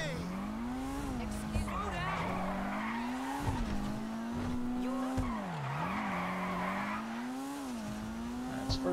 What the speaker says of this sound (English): Alright, so we're gonna go drifting with this man.